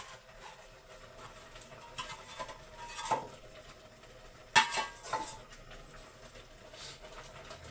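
Ingredients go into a cooking pot of banana heart, okra and salmon stew, with a low simmering bed broken by utensil clinks and scrapes, including one sharper clank midway, close and with no talk.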